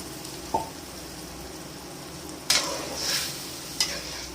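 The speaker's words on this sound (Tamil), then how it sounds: "இப்போ வந்து நம்ம புளி தண்ணியை ஊற்றுவோம்" Tamarind water is poured into a hot pan for tamarind rice and hits the oil with short sizzling bursts over a low background hiss.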